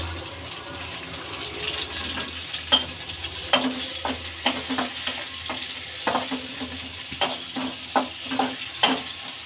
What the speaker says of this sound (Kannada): ಫ್ರೈ ಮಾಡ್ಕೊಳ್ಳೋಣ. ಹಸಿಮೆಣಸಿನ್ಕಾಯಿ ಹಾಕ್ಕೊಳ್ಳೋಣ. ಕರಿಬೇವಿನ ಸೊಪ್ಪು,